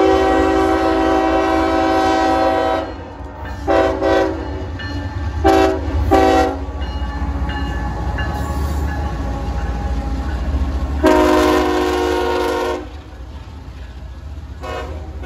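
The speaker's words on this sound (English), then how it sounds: "There it goes, or it's going by right now, but it's an intermodal heading towards Chicago" An intermodal freight train rumbles past, its horn blasting in several long and short blows, loud and close over the continuous low roar of the cars.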